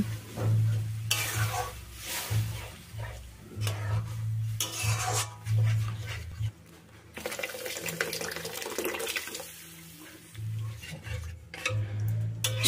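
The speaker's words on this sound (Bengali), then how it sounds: "প্রথমে অল্প একটু ডাল দিয়ে ভালো করে মিশিয়ে নেব, এরপরে পুরো ডালটা দিয়ে দেব" Boiled dal being stirred into a spiced vegetable masala, with wet scraping and sloshing strokes in an uneven rhythm over a steady low background hum, close and moderately loud.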